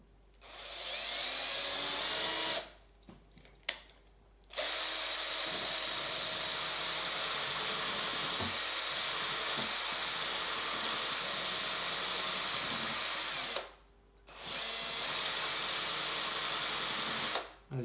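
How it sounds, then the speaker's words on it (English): Small rotary tool working on a 1:64 Hot Wheels Fiat 500 Abarth 695 die-cast car, a high whining hiss that runs in long bursts with short pauses between them. "I still absolutely prefer the rotating tool compared to any other."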